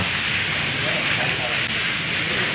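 Steady rain falling in a rural village on a rainy day, a continuous dense hiss without breaks, close and even throughout.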